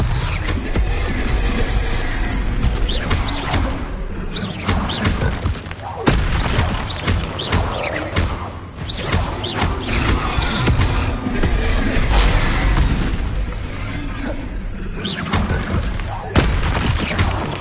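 Spell impacts in Hogwarts Legacy as Expelliarmus and other combat spells are cast, repeated booming bursts and crackling hits over a dense, noisy battle mix, with speech mixed in.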